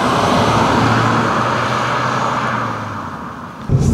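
A Suzuki Swift Sport on the road gives a steady engine drone with tyre and road roar, easing off slightly before a brief bump at the end, no voices.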